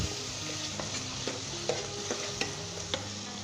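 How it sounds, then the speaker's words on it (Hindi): Mutton sizzles and fries in a pot while being stirred, a steady close hiss broken by regular scraping clicks of the spoon against the pot. "साथ ही हम इसके अंदर गोश्त शामिल कर देंगे। अच्छे तरीके से हम भुनेंगे इसे 5 मिनट तक।"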